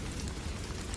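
Steady drizzle over Kusumpur village at dusk under dark clouds, a dense, even wash of rain noise that stays constant and fairly loud for a single second, with no voices.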